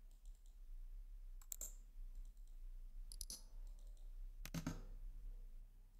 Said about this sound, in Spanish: Aquí tengo algunos sonidos de clic.